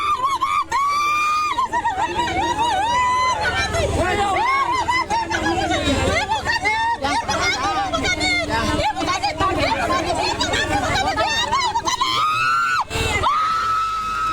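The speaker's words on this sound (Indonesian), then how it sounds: "Keluarga tergugat berteriak histeris saat mengadang truk pengangkut alat berat" Family members of the defendants scream hysterically while blocking a truck carrying heavy equipment during a chaotic land eviction in Maros, South Sulawesi, a loud, continuous crowd din of shouting and wailing voices throughout.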